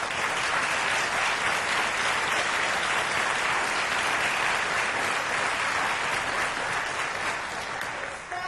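Loud, sustained applause from a university audience honoring students at a fall welcome address, a dense unbroken wash of clapping that dips slightly just before the end.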